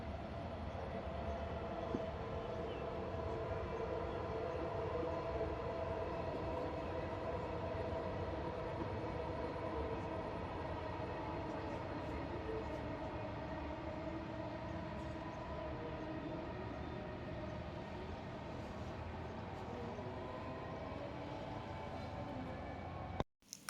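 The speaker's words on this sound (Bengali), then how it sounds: "সুন্দর একটা ভিউ দেখে দেখে এই যে মেট্রো যাচ্ছে।" A metro train passing in a city, a faint, distant steady rumble with rail hum sustained throughout, ending abruptly, heard alone without voices.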